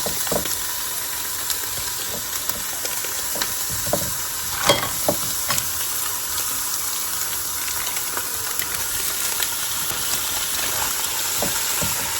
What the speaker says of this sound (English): the first step is obviously just to cook up your ground beef